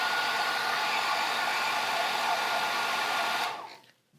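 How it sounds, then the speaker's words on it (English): A hair dryer blows with a steady, loud whooshing hiss, then winds down and cuts off near the end. "let's use the hair dryer"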